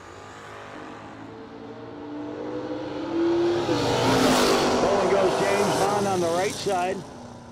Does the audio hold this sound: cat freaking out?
no